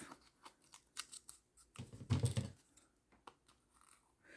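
Scissors cutting through a book page while making a junk journal pocket, with a series of close, crisp snips and paper rustles, the loudest cut near the middle, no talking.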